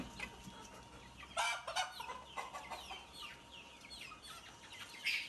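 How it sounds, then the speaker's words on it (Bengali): Farm chickens clucking at night in a poultry shed, with a few sharp, loud squawks and scattered clucks over a steady low background, close by and without talk. "এই যে মুরগিগুলা সারা রাত্রে এভাবেই থাকবে"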